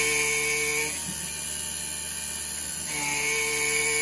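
A Taig CNC mill cutting a heatsink at a high feed rate with only the tool tip, making a steady high-pitched whine that dips in pitch under load in the middle before rising again.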